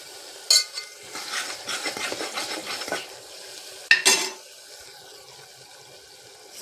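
Onions frying with turmeric are stirred in a pan, with a sharp metal clank, a stretch of scraping and sizzling, then another clank followed by a quieter simmer.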